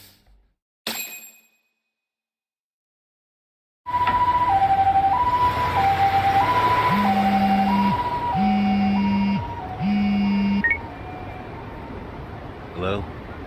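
Ambulance siren from the video game Lost Judgment, wailing in a steady two-tone cycle with a lower horn-like tone joining partway, loud and alone after a short silence.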